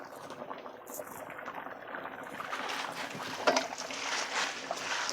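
Running water splashes over soup herbs being rinsed in a bowl with a little vinegar, a steady soft gush that swells slightly toward the end.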